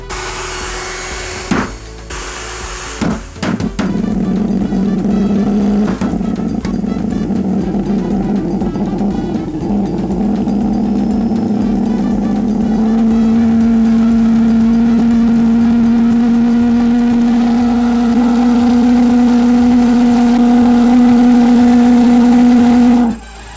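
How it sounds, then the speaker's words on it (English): A 3D printed pulsejet engine paired with a turbocharger roars steadily and loudly, starting with a few sputtering pops before settling into a continuous droning whir that rises slightly in pitch and holds for over twenty seconds. "the PulseJet engine and the turbocharger are a match made in heaven"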